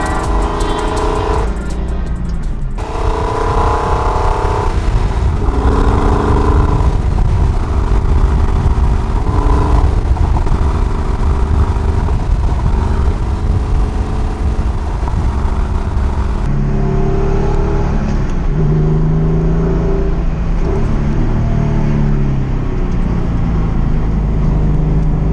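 A Porsche 993 drives winding roads, its engine loud and close throughout, revving up and easing off in repeated waves as it shifts through gears and corners, with a constant whir and no talking.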